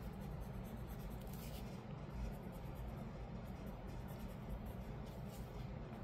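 A dark umber colored pencil sketching an eyelid on a mixed-media art journal face, a faint, close scratchy scribble of short strokes over a low background hum, with no speech.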